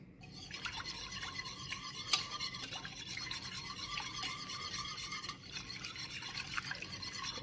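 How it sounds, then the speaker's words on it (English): A cracked egg being whisked in a bowl, a continuous soft scraping and liquid stirring sound, fairly quiet and close, with no voices. "We're just going to crack an egg in, and perfect. Now we're just going to whisk that up."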